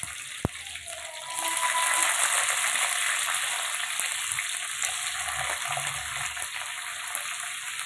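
Onions frying in hot oil in a pan, with mustard seeds already tempered, for a village-style prawn and ridge gourd curry: a steady, loud sizzle that swells after a sharp tap and holds continuously without talk.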